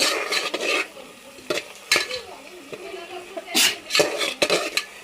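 Village goat mutton curry being stirred in a metal pan, with irregular scraping bursts of spoon against pan over a light sizzle, close by; a voice is heard faintly in the background.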